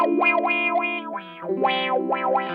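An electric guitar runs through a Zvex Super Seek Wah pedal with glissando turned up, a distorted tone sweeping smoothly up and down in repeated wah cycles, loud and up close with no talking.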